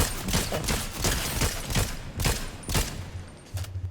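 Repeated gunshots in a Fortnite match, with a fairly steady rhythm of sharp reports over several seconds and no talk during the shooting.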